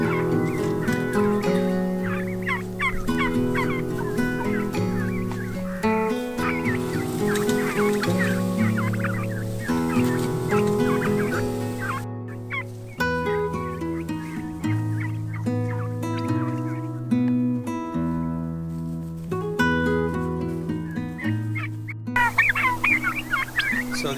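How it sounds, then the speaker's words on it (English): Domestic turkeys on a regenerative farm pasture gobble and call continuously, a dense layered chorus of overlapping bird voices at steady, fairly loud volume with no talk. "So these turkeys get daily moves to fresh grass and fresh insects."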